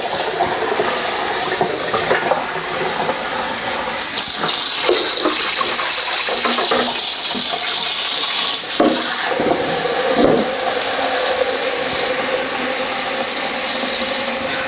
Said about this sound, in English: I'm going to fill it back up again to the top just with normal cold water.